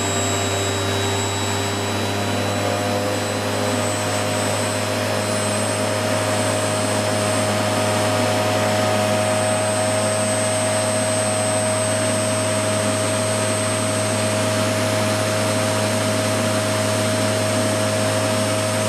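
An aircraft DC starter-generator runs on a test setup with a continuous, loud mechanical drone and steady high whine, unchanging throughout with no other sounds.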